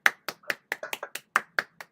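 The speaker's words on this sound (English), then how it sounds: "And now you clap your hands." Hand claps from an audience land roughly in time at a brisk, slightly uneven pace, about ten sharp claps, close and clear with nobody talking.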